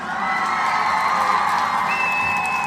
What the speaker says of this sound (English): All of the Nia babies a round of applause.